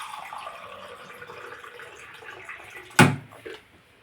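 Water poured from a glass into homemade lemon juice with sugar, a short splashing gush near the end following a soft, steady background wash.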